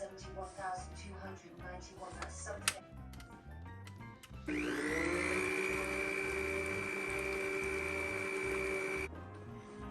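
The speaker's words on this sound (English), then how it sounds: "I'm going to start whipping this again" An electric mixer whips buttercream frosting flavored with vanilla and lemon juice. It starts partway through with a loud, steady motor whine that holds for several seconds and then stops, after a stretch of talking in the kitchen.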